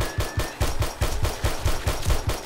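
Rapid automatic turret fire in 7 Days to Die (Darkness Falls mod), a loud, steady stream of evenly spaced gunshots, roughly five per second, continuous and alone.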